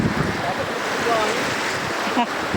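Ocean waves wash onto a beach in a steady surf roar with wind buffeting the microphone, while people can be heard talking nearby.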